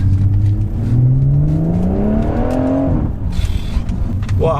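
Engine of a Stage 1 tuned BMW M140i accelerating hard while driving, its loud droning note climbing steadily in pitch through a gear before dropping at the shift, heard close from inside the car.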